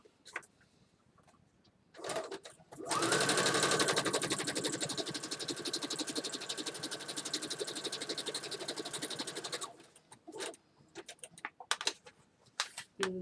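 A sewing machine stitches straight down the middle of journal pages made from hanging file folders, a rapid, even mechanical whir lasting several seconds between softer handling clicks and taps.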